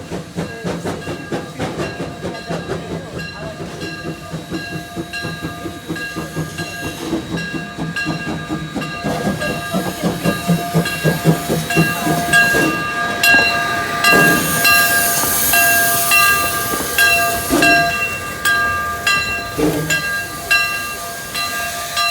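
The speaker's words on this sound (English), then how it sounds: "We were about to ride the miniature gauge train once again." Miniature gauge steam train ride on the Kittyland Limited at a steam museum, with steady rhythmic chuffing and rail clatter close by, building louder midway with bursts of hissing steam.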